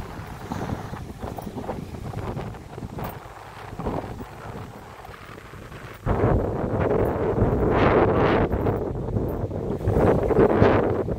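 Strong wind roars and buffets the microphone continuously by the sea, growing louder and gustier in the second half, with a faint wash of sea water beneath.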